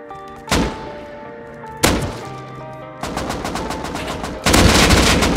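Gunfire in the survival game Rust: a few sharp, loud single shots spaced apart, then rapid bursts of automatic fire close by.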